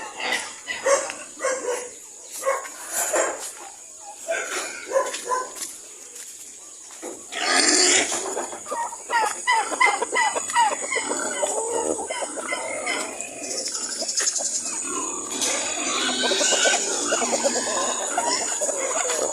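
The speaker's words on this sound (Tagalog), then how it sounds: "kumain na yung mga manok" Chickens cluck and squawk in a busy farmyard, mixed with a barking dog and other animal calls, some near, some farther off.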